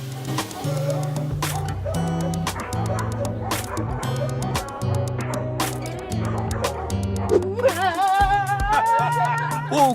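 A dog barks and yips repeatedly with a few whimpering cries near the end, all mixed with steady background music.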